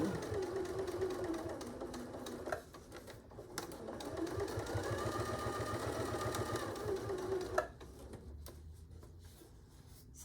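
A sewing machine stitches fabric for an artist case with box corners; runs of rapid mechanical whirring are broken by sharp clunks and pauses, close and fairly quiet, with faint handling noises between bursts.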